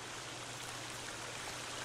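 Steady flowing water at a camp in the survival video game Sons of the Forest, a continuous soft rushing stream sound heard alone without any breaks.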